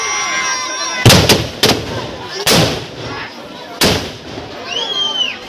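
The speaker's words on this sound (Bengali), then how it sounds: "ফাটছে ফাটছে এক এক করে প্রত্যেকটা বাজি ফাটছে।" Firecrackers go off one after another at a fair's fireworks display, with four or five sharp, loud bangs at uneven intervals, each with a short crackling tail. Crowd noise and a whistle rise in between.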